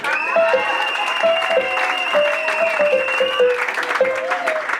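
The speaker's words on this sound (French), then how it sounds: "Et on acclame alors pour votre frère" A crowd at a Christian wedding gathering claps in steady, dense applause with loud cheering, while a voice sings or calls out over it in long sustained tones throughout.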